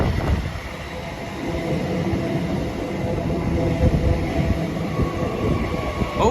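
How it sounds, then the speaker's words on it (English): A Great Western Railway 9-car IET passes through Didcot Parkway station, a steady broadband rumble and roar of wheels and traction holding loud and close throughout, with faint squeal tones above. "the next train to show up is going to be the 1539 Great Western Railway service to Bristol Temple Meads from Paddington, formed of another 9-car IET"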